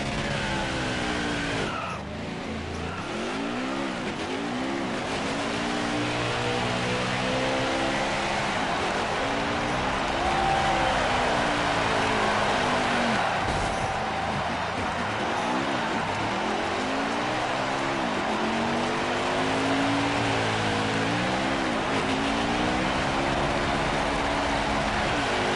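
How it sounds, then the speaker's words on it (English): A NASCAR Craftsman Truck Series race truck doing a celebratory burnout on track grass after the Menards Home Improvement 250, its engine roaring loud and steady with tire squeal and skidding throughout, revving rising and falling in waves. "there he goes with his burnout to celebrate"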